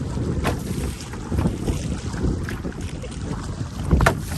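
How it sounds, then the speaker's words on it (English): Steady wind buffeting and water sloshing around a canoe on a rough, whitecapped lake in Algonquin Park, with gusts swelling and fading against a constant rushing backdrop; no voices. "This is rough. Whitecaps,"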